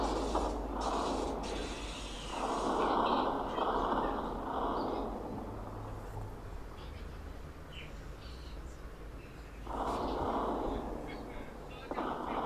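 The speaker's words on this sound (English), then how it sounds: "Yeah, everything explodes." Explosions in the Melon Sandbox game as an apartment building blows apart, coming as dense, broad blasts and rumbling crashes in bursts, with a sustained noisy wash between them.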